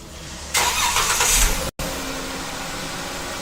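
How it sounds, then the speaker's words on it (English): A 2011-2017 Dodge Journey starts by remote: a brief starter crank and roar as the engine catches, a short cut, then a low steady idle hum continuing alone. "This will trigger remote starting of the vehicle."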